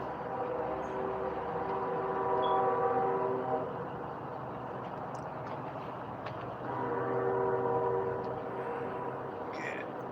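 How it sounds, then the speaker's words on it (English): A train rumbles past at a moderate distance, its steady drone swelling twice over several seconds with faint higher tones riding on top. "There's the train to Clarksville."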